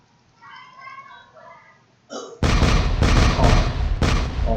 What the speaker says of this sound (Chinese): 这时候就有放出子弹了